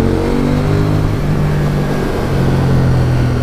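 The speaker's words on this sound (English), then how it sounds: "Oh, listen to that exhaust." A KTM 790 Duke with a standard exhaust revs loudly and close up on a rural road, its engine note rising and falling in a sustained, throaty drone with no talking over it.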